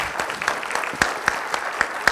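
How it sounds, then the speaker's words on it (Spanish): A small audience at an endocrinology congress in Peru claps, scattered hands beating in a loose rhythm with a few sharper claps standing out, fairly close and brief. "Un fuerte aplauso."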